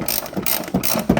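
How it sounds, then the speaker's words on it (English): A hand ratchet on a short extension clicks in quick repeated bursts while loosening 14mm nuts on the rear shock top mount of a Mazda 6, close and clear with no talking. "you got a 14mm on a little extension and the ratchet"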